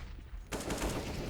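Gunfire in a competitive CS:GO match on the Cache map: a burst of sharp shots cuts in abruptly midway, loud and close, after a quieter stretch.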